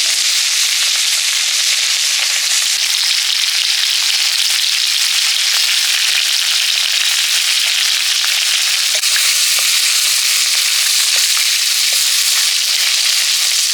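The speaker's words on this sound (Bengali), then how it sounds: "ভেটকি মাছের মাথাটা ভেজে নিচ্ছি।" Loud, continuous hiss of a bhetki (barramundi) fish head frying in oil, a dense sizzle with occasional sharp pops, heard up close without any talking.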